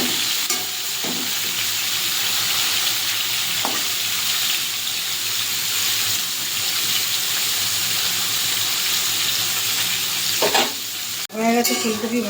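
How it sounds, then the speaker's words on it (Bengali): Cauliflower florets sizzling and frying in hot oil in a kadai, a continuous loud crackle with occasional stirring scrapes and a clatter near the end. "হয়ে গেছে ফুলকপি ভাজা"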